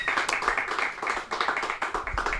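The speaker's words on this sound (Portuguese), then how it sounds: "Uma salva de palmas pra ele" Applause for a guest at the close of a podcast recording, a few hands clapping in quick, uneven rhythm, fairly close and steady throughout, with no talking over it.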